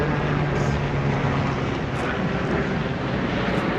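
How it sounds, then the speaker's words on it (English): Helicopters pass overhead as a broad, steady roar of rotor and engine noise, loud and continuous throughout, filling the space without any talk over it. "hold up, let these helicopters pass."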